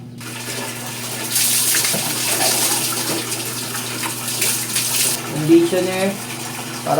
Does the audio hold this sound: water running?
yes